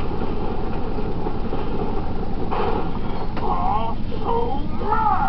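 A train rattles steadily past a level crossing in a cartoon, with continuous clattering wheel noise. Voices talk excitedly over it near the end.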